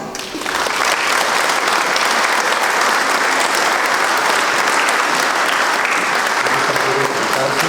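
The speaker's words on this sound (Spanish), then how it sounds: "Vamos por favor a darles todos un fuerte aplauso." Wedding guests at a Purépecha wedding ceremony in Zopoco, Michoacán break into loud, sustained applause for the couple, dense clapping filling the room steadily, with some voices mixed in.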